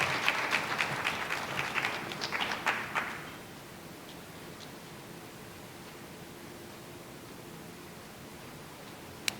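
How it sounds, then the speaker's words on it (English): Audience applause at an evening community event on traffic stops and policing, a dense burst of clapping for about three seconds that quickly dies away into quiet room tone. "Let's give a round of applause for them."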